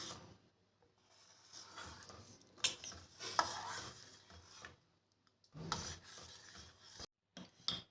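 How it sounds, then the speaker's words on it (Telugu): Milk mixed with custard powder being stirred in a pan over a low flame, giving intermittent scraping and rubbing strokes of a spoon against the pan, close and moderately loud, with short pauses between bursts. "ఇందులో కస్టర్డ్ పౌడర్ కలిపిన పాలు కలుపుకోవాలి లో ఫ్లేమ్ పెట్టుకుని ఇది అయ్యేంత వరకు కలుపుతూ ఉండాలి"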